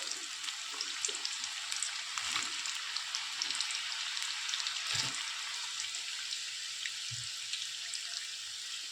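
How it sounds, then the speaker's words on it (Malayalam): Jackfruit pieces for chips frying in hot oil in a wok give a steady, fairly quiet sizzling hiss with scattered small pops and crackles, continuous throughout with no talking. "ഇനി നമുക്കിത് ചീനച്ചട്ടിയിലോട്ട് ഇട്ട് കൊടുക്കാം. എണ്ണ ചൂടാക്കാൻ വെച്ചിട്ടുണ്ട്."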